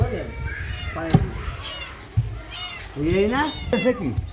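Several high, thin kitten meows come in short bursts, one early and a cluster near the end, close by over a background of low rumble and faint voices.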